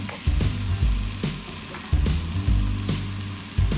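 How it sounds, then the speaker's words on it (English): Steady sizzling of ground pork and onion frying in a pan, with periodic scraping and stirring knocks throughout. "when the onion color changes, add ground pork and continue frying."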